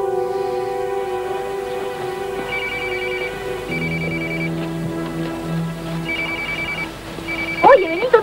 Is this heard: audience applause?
no